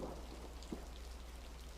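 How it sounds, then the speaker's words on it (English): Steady rain pours during a thunderstorm, a soft, even hiss with a faint low rumble and one brief patter burst, quiet and uninterrupted. "The rain is so soothing. At least when it's not thundering."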